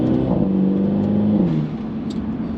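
A Mercedes C-Class four-cylinder engine revs up and settles back with a low, throaty factory exhaust burble, loud and close.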